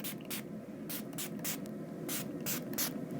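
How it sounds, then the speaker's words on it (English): LA Girl makeup setting spray misted onto a face in a series of short, sharp pump bursts, about eight quick hisses spread irregularly over a few seconds, close and clear above a low steady background hum. "I'm gonna go ahead and set my face with the makeup setting spray"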